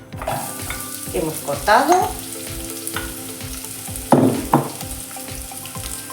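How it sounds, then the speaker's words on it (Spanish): Chopped onion and leek hit hot olive oil in a pot, giving a loud steady sizzle with bursts of crackle as they are stirred, while a person speaks briefly over the frying. "Y ahora vamos a añadir la cebolla"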